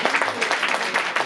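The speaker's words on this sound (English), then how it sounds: "Now let's give a round of applause to our guests." Brief burst of audience clapping welcoming guests at an ISKCON temple celebration for Nrisimha Chaturdashi in Ottawa, a dense crowd applause heard alone.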